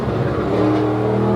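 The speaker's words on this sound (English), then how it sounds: "All he's got to do is make it down the racing surface, and he comes back to face Bill Wittendower." A drag race car roars down the strip at an OSCA semifinal event, its loud, steady engine note filling the whole brief stretch with a continuous droning rumble and no voices over it.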